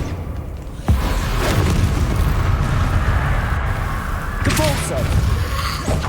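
Confringo explosive spell cast in the Hogwarts Legacy video game: a sudden booming blast near one second, followed by sustained rumbling and crackling under busy game sound, with a second burst later and a voice speaking over it.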